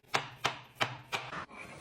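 Knife chops through carrots on a cutting board in five crisp, evenly spaced thuds, close and clear with no talking over them.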